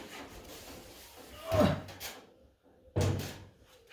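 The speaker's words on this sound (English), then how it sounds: "What I'm going to do is remove the door for a minute" Two clunking, scraping bursts ring out as a door is worked off a Bedford CA van up on a ramp, metal rubbing and knocking close by with quiet gaps between.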